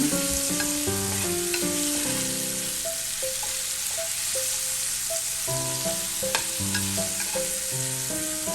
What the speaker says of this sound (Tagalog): And then try to sear it a little bit.